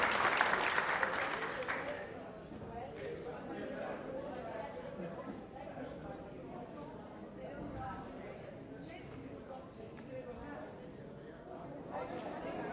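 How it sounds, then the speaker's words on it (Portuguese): Audience applause breaks out at a national forum ceremony honouring an attendee, loud at first and then settling into softer clapping and murmuring chatter that carries on throughout. "uma salva de palmas para o Silvio."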